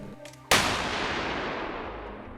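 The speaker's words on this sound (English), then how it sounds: "Let's see the real explosion of 2 kilograms." A single sharp, powerful blast from two kilograms of explosives erupts after a brief quiet moment, then a long roaring rumble slowly fades away.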